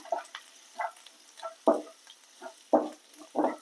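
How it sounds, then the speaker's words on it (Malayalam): Chili powder frying in a pan while making a ridge gourd thoran, with about six short, close bursts of sizzling and stirring spaced through a quiet stretch. "ഒരു മുക്കാൽ സ്പൂൺ മുളക് പൊടി ഇട്ടിട്ടുണ്ട് ഇതൊന്ന് നന്നായിട്ട് വറുത്തെടുക്കാം"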